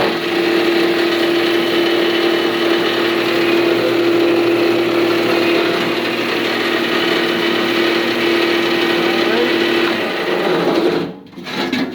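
A plastic shredder granulator runs on plastic trash, giving a loud, continuous machine drone with a steady hum that holds for about eleven seconds before a short dip near the end.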